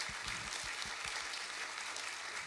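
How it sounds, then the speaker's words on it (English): Faint, distant applause from an audience, a dense patter of clapping that continues steadily without voices. "Would you please give her a round of applause?"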